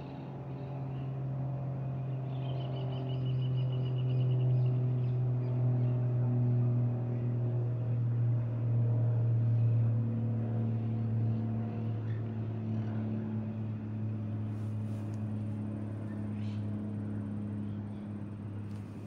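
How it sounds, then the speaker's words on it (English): A steady, droning engine rumble with a low hum holds throughout, like a propeller plane passing overhead at moderate distance, with no one speaking. "have an airplane coming over"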